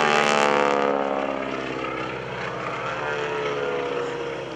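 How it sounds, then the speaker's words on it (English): Stearman biplane at an air show flying aerobatics, its propeller tips going supersonic in a loud, harsh rapping over a throaty radial engine rumble, steady and close with a slight swell and fade. "that loud rapping sound that you hear are the tips of the propeller as they go supersonic"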